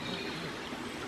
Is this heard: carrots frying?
no